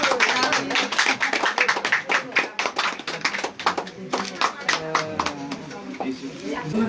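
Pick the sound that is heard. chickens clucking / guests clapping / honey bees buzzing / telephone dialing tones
guests clapping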